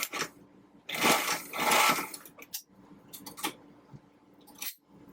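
A sewing machine stitches a pleated fabric face mask in short, whirring runs, buzzing close up for about a second at a time, separated by pauses filled with light clicks and fabric handling.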